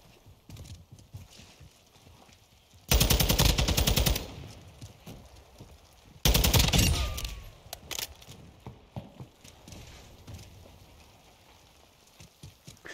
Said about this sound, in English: You're moving with that submachine gun.